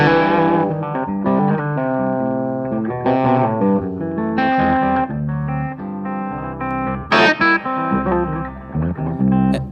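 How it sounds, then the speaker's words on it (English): Overdriven electric guitar amp tone, gritty chords and riffs played in bursts, loud and close, no voices. "Overdrive channel of the amp, yeah, that's it."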